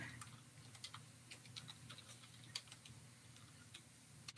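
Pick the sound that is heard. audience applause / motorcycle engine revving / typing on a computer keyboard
typing on a computer keyboard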